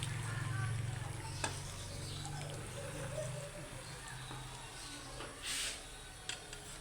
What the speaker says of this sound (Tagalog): Iluto muna natin yung ating chicken mga lalab.